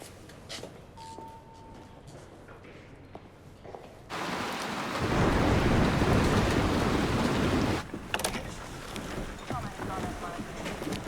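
Heavy rain of a thunderstorm in a science-fiction film scene, swelling into a loud, dense roar in the middle before easing back to a quieter wash with lighter noises.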